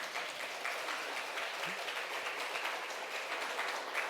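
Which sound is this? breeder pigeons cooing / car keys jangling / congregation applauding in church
congregation applauding in church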